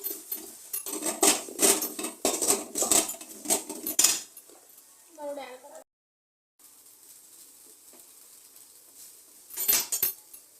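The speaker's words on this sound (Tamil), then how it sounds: "சாப்பாடு போட்டு நல்லா கிளறி விட்டுடலாம்." Rice and cabbage stirred in a cooking pan, quick metallic scraping and clinking of a utensil against the pan in rapid bursts, then a pause and a final clatter, close and alone.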